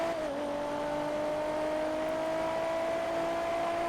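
A ZR380 Custom car from GTA V, the Arena War version, holds a steady high engine drone at sustained revs after a short early dip in pitch, loud and close with no talking.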